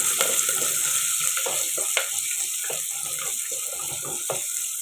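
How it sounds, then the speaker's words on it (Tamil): Small shallots fry and crackle in hot oil along with curry leaves for a village-style drumstick curry, a continuous close sizzle broken by scraping stirs and light clatter. "நூறு கிராம் சின்ன வெங்காயம் இதோடு போட்டு வதக்கலாம்"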